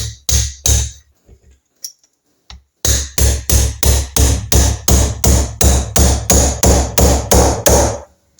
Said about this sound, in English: Put my drift on and use the hard end of the hammer now.